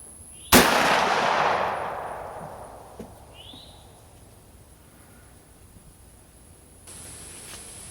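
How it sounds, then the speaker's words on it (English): One unsuppressed gunshot cracks sharp and loud, then its echo trails off over several seconds into quiet outdoor background, ahead of suppressor decibel testing. "Here we go, 1 round, unsuppressed"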